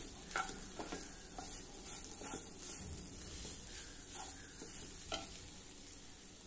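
Freshly grated coconut stirred into toasted poppy seeds in a pan, with soft scraping strokes and faint crackling at an irregular rhythm, quiet and close.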